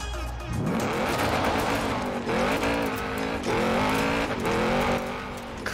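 An Audi in Forza Horizon 4 drives continuously, its engine revving and rising in pitch through several gear changes, with faint tire squeal, loud and steady throughout.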